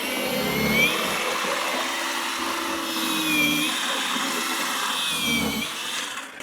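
A SiLVEL 40V battery-powered snow shovel clears heavy, wet snow with a steady, close motor whine and a continuous scraping, rushing texture that swells and eases slightly over several seconds. No one speaks.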